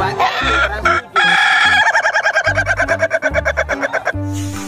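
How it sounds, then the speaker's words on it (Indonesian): A rooster in the video game Jurassic World Evolution 2 crows loudly and up close, a long rising call followed by a rapid run of rhythmic clucking notes. "Wow, lihat, ini ada ayam jago."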